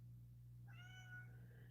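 A cat lets out a single drawn-out meow from across a room, faint and slightly distant over a steady low electrical hum, with no talking.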